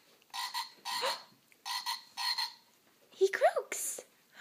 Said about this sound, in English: He croaks.